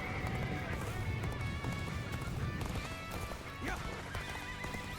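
A horse in a video game gallops with rapid clip-clop hoofbeats and lets out a neigh during a cavalry charge, set against busy battle noise.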